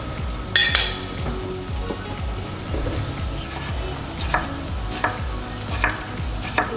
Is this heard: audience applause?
no